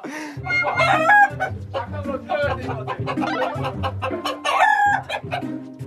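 Chickens inside a coop cluck and crow loudly and close by, with repeated squawks and a rooster-like call over continuous busy clucking.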